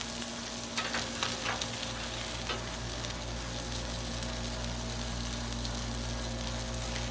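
An egg fries on a Blackstone griddle beside sausage, giving a steady close sizzle with a few soft crackles near the start, then an even hiss with no talk.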